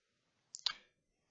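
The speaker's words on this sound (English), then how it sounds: "So just going to click up here, right click, hit copy." A computer mouse gives a quick pair of near, crisp clicks during a right-click and copy in HP Tuners tuning software, isolated in an otherwise quiet room.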